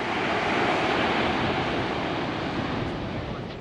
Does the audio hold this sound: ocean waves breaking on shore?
yes